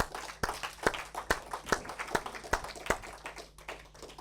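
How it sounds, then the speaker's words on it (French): A congregation in a church claps in an offering of acclamation, a short burst of distinct, fairly close individual claps in a loose, uneven rhythm rather than a full roar of applause. "Nous pouvons donner une offrande d'acclamation au Saint-Esprit."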